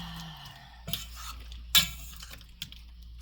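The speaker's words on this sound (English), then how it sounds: "let me give this a stir" A utensil stirring shrimp Alfredo in a pan, quiet scraping and a few sharp clinks against the metal, close up over a low background hum.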